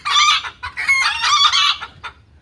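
A hen clucking loudly just after laying an egg, giving a quick run of sharp, insistent squawking cackles in several bursts, close and clear.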